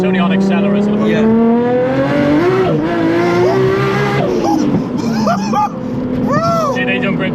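A straight-piped Nissan Skyline R33 revs hard and accelerates, its loud rasping exhaust rising and falling as the tyres squeal and lose grip, with excited voices over the engine.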